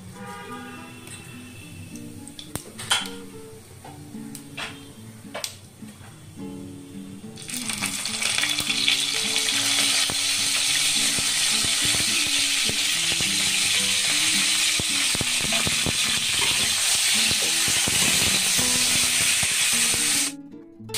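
Cumin seeds fry in hot oil, a loud steady crackling sizzle that bursts in partway through and holds until it cuts off near the end, after some quieter kitchen clatter and a few sharp clinks.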